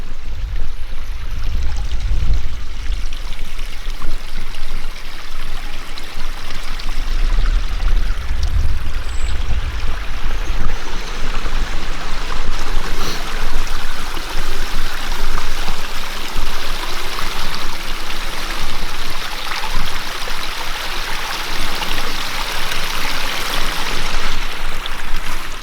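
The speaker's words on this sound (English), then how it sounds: "the creek here on the right, it's totally quiet." Creek water flows steadily at Harrods Creek Park in Prospect, Kentucky, a continuous close rushing wash with faint low rumbles and no voices.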